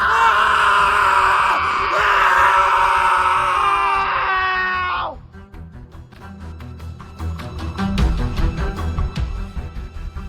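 Four people scream together in a house during a horror story, loud sustained shrieks that ring out for several seconds and then cut off, followed by lower rumbling clatter.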